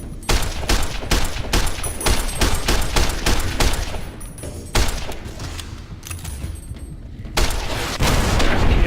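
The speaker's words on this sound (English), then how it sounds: "I think I just got a rocket to the face." Rocket explosions in a Fallout New Vegas firefight: continuous loud, rapid gunfire with heavy thumping blasts, a brief lull, then another surge of booming fire.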